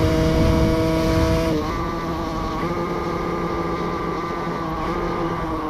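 A motorcycle engine revs in the TT Isle of Man 2 racing game, a loud, steady buzzing drone that drops slightly in pitch as the throttle eases, then holds evenly to the end.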